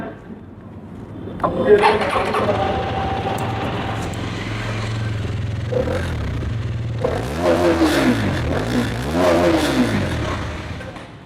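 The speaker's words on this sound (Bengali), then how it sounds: "আমি একটু স্টার্ট করে দেখাই গাড়িটা" A Hero Karizma XMR 210 motorcycle engine cranks and catches, idling steadily before two rising revs near the end, with a person speaking briefly over it.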